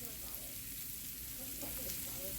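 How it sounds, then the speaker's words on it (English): Onion and a large green pepper sauté in hot oil, giving a soft, steady sizzle and crackle that runs evenly throughout at a fairly low level. "I'm gonna saute them until they're nice and translucent."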